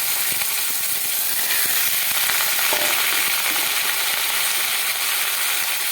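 Cut flat beans, potato and eggplant fry in hot oil over a black cumin tempering: a steady, bright sizzle with faint clicks and scrapes of stirring throughout, no voices.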